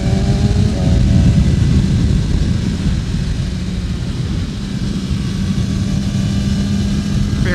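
A 2024 BMW S1000RR ridden on rough roads on brand-new tires, its engine a steady loud drone mixed with heavy wind rush at cruising speed, no voices.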